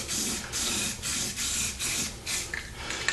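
Automotive primer hisses from a spray can in repeated short bursts, about seven close, steady hissing passes of roughly a third of a second each with brief pauses between them, while coating the corners of a Jeep Wrangler TJ tail light mount.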